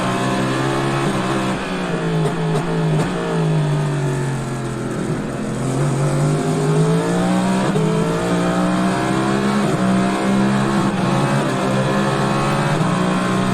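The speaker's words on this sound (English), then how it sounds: "this clip is just one of the chase scenes from a Cadillac chasing down another" Cadillac prototype race cars at the 2023 Rolex 24 at Daytona, one chasing another, their engines roaring loud and continuous with rising and falling pitch as they rev through gear changes, with no talk.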